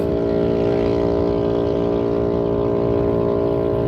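Loud motorcycle with a bad exhaust leak, roughly a quarter mile off, giving a constant droning engine hum with a harsh buzzy edge that stays steady and prominent throughout, no talking.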